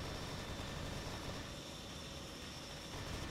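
Helicopter in a Roblox game flying steadily, a continuous loud rotor and engine drone that fills the whole stretch without pause and with no voices over it.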